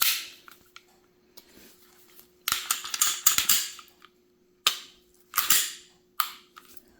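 Handgun slide on a Glock 19X or Sig P320 worked and locked back, giving a series of sharp metallic clacks and snaps in clustered bursts, close and crisp with quiet gaps between.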